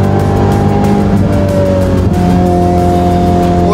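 Car on winter tires climbs a snowy, slick mountain road, a steady loud engine drone with sustained tonal whine and road noise throughout, no talking.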